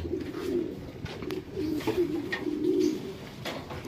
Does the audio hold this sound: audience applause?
no